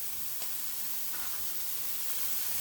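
Broccoli, chopped pieces and whole florets, hits a hot skillet for vegetable fried rice, giving a steady, close, hissing sizzle that holds throughout without talk.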